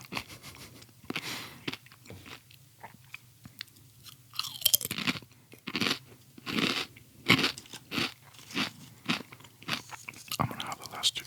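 Close, crisp crunching and chewing of a chip, with sharp bites followed by a steady run of crackly chews at a slow, even rhythm over a quiet background, with no talking.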